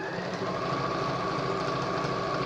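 A sewing machine stitches a fabric pencil case with a steady, close, fast mechanical whir that does not break, with no talk.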